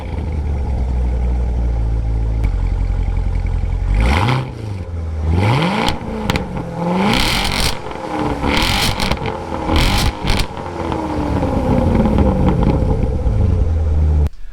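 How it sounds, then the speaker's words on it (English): C7 Corvette with its stock exhaust system revving during a loudness test: a deep idle rumble breaks into repeated sharp rising and falling revs, loud and close, with wind buffeting the microphone. "I'm anxious to see how loud the stock exhaust system actually is on this C7"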